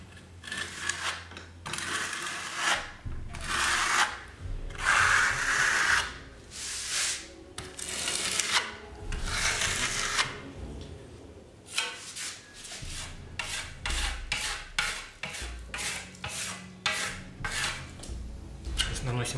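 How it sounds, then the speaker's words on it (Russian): A trowel scrapes and smooths microcement across a floor in long repeated rasping strokes, close and steady, sometimes shorter and quicker, with a faint voice now and then underneath. "где-то разглаживаем маленькие порции, где-то большие берем порции и растягиваем"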